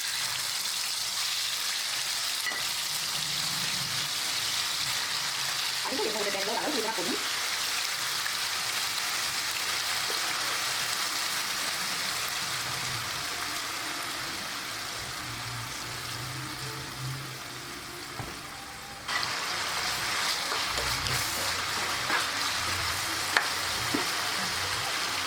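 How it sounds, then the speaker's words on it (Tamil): Marinated chicken deep frying in hot oil gives a steady, close hiss and crackle that runs on without a break, with no talking over it. "சிக்கன் ஊற வச்சு அரை மணி நேரம் ஆச்சு. இப்போ பொரிச்சு எடுக்கலாம். எண்ணெயும் காஞ்சிருச்சு."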